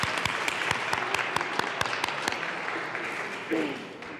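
Warm applause fills the Colorado House chamber, a crowd clapping steadily with a few sharp individual claps standing out, easing slightly near the end as murmured voices continue underneath.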